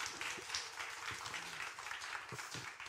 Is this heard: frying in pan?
no